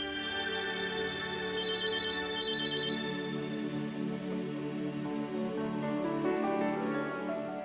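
A telephone rings with a repeating electronic ringtone after a call is placed, its high tones faint beneath steady background music throughout.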